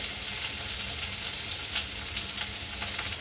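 Steady loud sizzling of cumin seeds frying in hot oil in a pan, with small onion pieces from two onions being added, a continuous crackling hiss with occasional louder pops and faint stirring.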